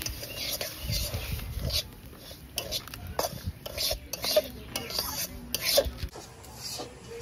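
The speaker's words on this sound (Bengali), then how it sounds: "কড়াইতে একটু ঘি দিয়ে দেবো, সুজিটা ভেজে নেব।" Repeated scraping and clattering of a spatula in a metal pan, roasting semolina in ghee, irregular strokes with a soft background hum.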